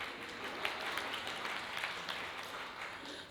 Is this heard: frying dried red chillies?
no